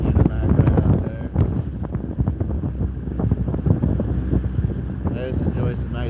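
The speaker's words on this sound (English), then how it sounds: "I just enjoy some nice prop watching, the cathartic feeling, sloshing." Propeller wash from a fishing boat on the Bering Sea churns and sloshes loudly, a rough continuous rush of water mixed with heavy wind buffeting the microphone, with no clear pauses.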